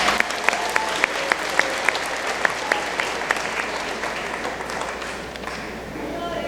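Sustained applause from an audience at an eighth grade awards ceremony for students, dense steady clapping with a few sharper claps standing out, fading slightly toward the end.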